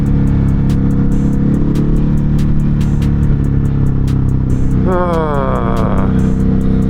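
Ducati Hypermotard 950 RVE motorcycle engine droning loudly at steady speed, with a brief rise and fall in pitch as a gear change goes through, under constant wind and road noise.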